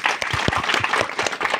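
Audience clapping at the inauguration of a Vanchit Bahujan Aghadi party branch in Dhotra village, a steady patter of many hands with low voices mixed in beneath.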